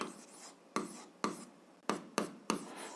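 Pen or chalk strokes write out an algebra equation, a run of short scratchy strokes with sharp onsets at an irregular rhythm, close and alone.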